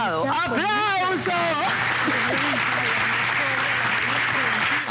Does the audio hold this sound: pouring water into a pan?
no